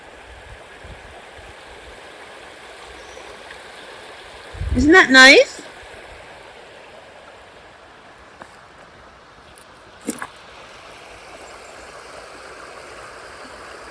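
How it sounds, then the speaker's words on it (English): A loud stream runs right beside a French château property: a steady, even rush of water fills the whole clip, while a voice speaks briefly and a couple of faint knocks sound nearby. "the water is quite loud"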